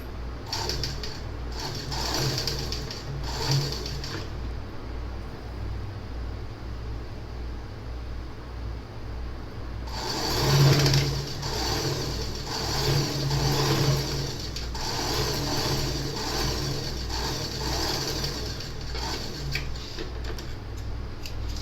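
A sewing machine stitches the seam of a child's Festa Junina party dress, running in bursts of rapid mechanical whirring and ticking with brief pauses between, close and moderately loud, with no speech.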